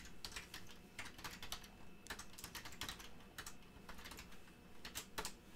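Rapid keystrokes on a computer keyboard while code is written, with bursts of clicking, brief pauses and a few louder key hits, close and clear with no talk.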